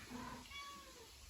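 A house cat meowing and yowling indoors, with faint drawn-out wavering cries over a noisy background.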